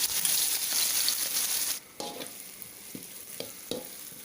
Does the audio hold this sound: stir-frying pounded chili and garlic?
yes